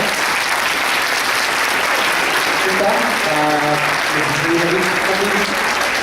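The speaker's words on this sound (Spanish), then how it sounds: "Un aplauso para ti, por favor." An audience claps after a keynote lecture, a loud, sustained wave of applause filling the hall throughout, with a voice speaking over it midway.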